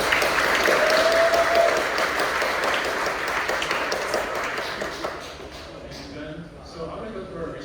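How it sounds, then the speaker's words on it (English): Applause from an audience at a student AI club introduction session, loud at first and gradually fading away over several seconds. "So give him a round of applause."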